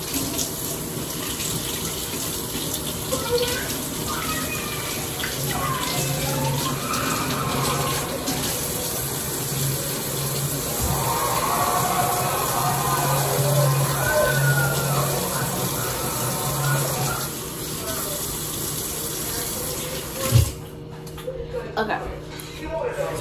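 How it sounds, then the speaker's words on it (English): Tap water runs steadily into a kitchen sink while a sour cream container is rinsed, a continuous close splashing flow that shifts in tone, with a voice talking over it and a brief knock near the end. "I'm gonna rinse this out."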